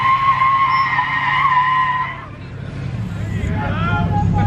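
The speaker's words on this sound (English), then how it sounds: "That was me failing to do a two-wheel burnout." Truck tires spinning and squealing at a truck meet during a failed two-wheel burnout, a loud screech with engine roar that fades and then rises again, with crowd noise around it.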